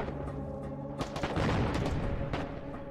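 An artillery battery fires in the Foxhole war game: dull booms and bursts sit over a constant low rumble, with one stronger report near the start, a denser cluster in the middle and another late impact.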